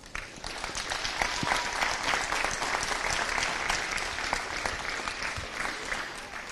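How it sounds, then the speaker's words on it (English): Crowd at a Leinster camogie senior and intermediate championship final gives both teams a big round of applause. Dense, steady clapping continues without a break and fades slightly at the end. "all of our supporters that's here today should give both teams a huge round of applause"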